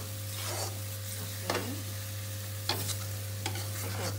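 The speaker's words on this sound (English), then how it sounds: "Let our masala cook for a while in the oil" Masala spices frying in oil for mutton liver masala, with a steady sizzle and a few sharp scraping stirs against the pan, close up over a constant low hum.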